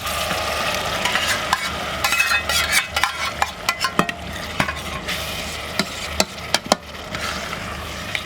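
Home-canned crushed tomatoes are stirred into a pan of cooking tomato sauce, giving a steady bubbling simmer with repeated spoon scrapes and clicks against the pan, close by and with no talking.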